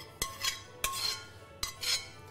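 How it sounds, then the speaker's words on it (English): A spoon moves cooked parsnips into a jug, making three sharp metallic clinks against the container with soft scraping between them. No one talks. "we're just going to spoon the parsnips"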